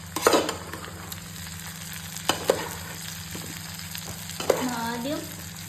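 Tapioca fries in a pan with a steady, soft sizzle, broken by a few sharp scrapes and clinks of stirring. The sound is close but low in level, over a faint constant hum.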